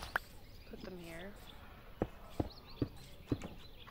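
Minecraft horses in a modded game world: sharp clip-clop hoof beats sound at a steady walking pace, with a brief whinny-like tone early on, over a faint background hum.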